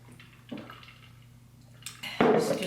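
Tap water running into a sink in a home, starting softly and then gushing louder and steadier near the end, with faint clinks before it.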